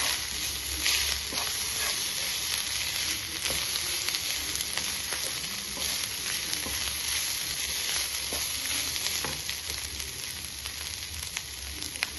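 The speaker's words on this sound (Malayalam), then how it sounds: "തേങ്ങ ഒരുമാതിരി വെള്ളമൊക്കെ മാറി ഡ്രൈ ആയിട്ട് വരുന്നുണ്ട് നമുക്ക് അതിൻ്റെ അകത്തോട്ട് ഒരു ടീസ്പൂൺ പെരിജീരകം ഇട്ടുകൊടുക്കാം" Grated coconut fries in a pan with fennel seeds as it dries out, making a dense, continuous hissing sizzle throughout, with occasional light stirring scrapes.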